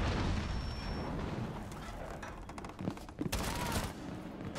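Gunfire in a Rainbow Six Siege–style video game: a few sharp, close bursts of shots punching through a continuous low, rumbling background, with a cluster of reports near the end.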